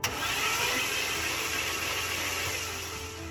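Mercedes engine fitted with twin superchargers and a drive belt, running steadily with a dense, close whirring drone and no talk throughout the short stretch.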